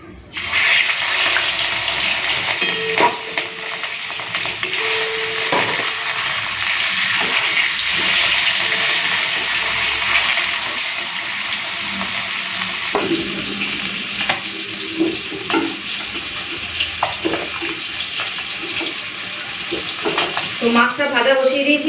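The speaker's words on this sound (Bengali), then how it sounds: "তো মাছটা ভাজা বসিয়ে দিয়েছি।" Fish fries in a small amount of hot oil in a pan, a loud continuous crackling sizzle with scattered pops and occasional utensil clatter.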